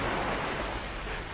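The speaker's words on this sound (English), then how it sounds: "Seashore, waves lapping at the beach." Waves lap at a seashore, a steady broadband rushing wash that holds at a fairly even level throughout the short stretch with no other distinct sounds.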